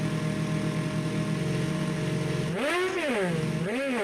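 A motorcycle engine in the TrackDayR racing game drones at a steady pitch, then is blipped hard on the throttle, its whine swooping up and down twice in quick revs, loud and close with no talking.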